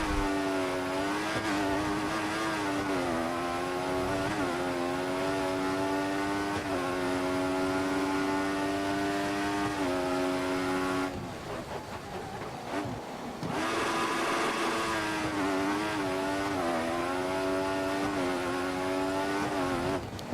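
Mercedes Formula 1 car from the F1 2014 racing game on a qualifying lap, a loud, steady high-pitched engine whine rising and falling through the gears, briefly dropping under braking before climbing again, with no voices.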